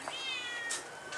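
A cat meows twice in a car body and paint repair shop, a drawn-out cry followed by a shorter one, fairly clear and close against a quiet background hum.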